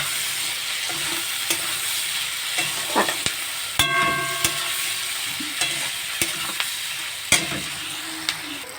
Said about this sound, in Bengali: এগুলো আমি এখন একটু লাল লাল করে ভেজে নেব